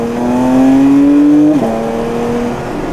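A Porsche 911 GT3 with a swan-neck rear wing and a still-cold engine pulls away calmly, its loud, close engine note climbing steadily before a brief dip at a gear change, then holding a steady drone.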